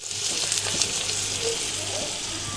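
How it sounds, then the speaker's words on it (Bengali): Fish coated in turmeric goes into a pan with bitter gourd for a Bengali dish, making a close, steady frying hiss with faint stirring clicks and no clear talk. "এবার মাছটা হলুদ মাখিয়ে রেখেছিলাম, মাছটা দিয়ে দিচ্ছি"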